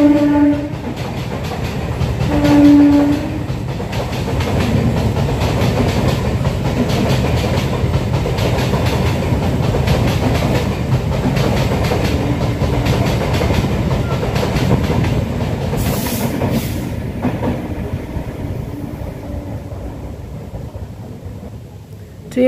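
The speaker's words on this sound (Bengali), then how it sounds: "ট্রেনটা স্বাভাবিকভাবে যাচ্ছে।" A train rolls past on the railway for about twenty seconds, a loud, close, continuous rumble and clatter with brief tonal notes near the start, easing off toward the end.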